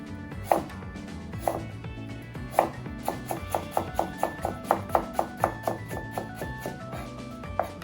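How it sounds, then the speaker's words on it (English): Knife chopping food into thin slices on a cutting board in a home kitchen while onions cook, a steady run of sharp taps that speeds into a quick, regular rhythm, close and clear with a low background hum. "Cut into thin slices."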